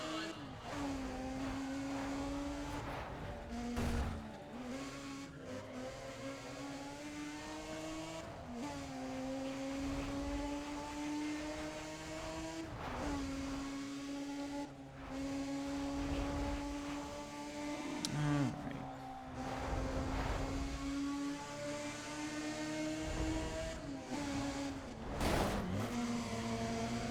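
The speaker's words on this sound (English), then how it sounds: "Man, listen to those engines." Race car engines in NFS ProStreet drone steadily throughout, with revving pitch rises and shifts as cars pull away, blended with game sound and occasional commentary-like voice.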